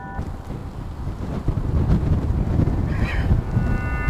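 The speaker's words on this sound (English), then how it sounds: "This is the tough part about the wind." Strong wind roars steadily across the microphone outdoors near sand, a dense low rumble that grows slightly louder after the first second.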